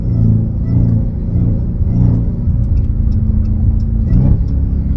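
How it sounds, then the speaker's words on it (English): Dodge Hellcat with an aftermarket intake, engine droning loud and close in a steady rumble with a faint high whine riding on top as it downshifts, no talking. "I love the downshift whine."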